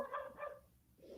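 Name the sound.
dog barking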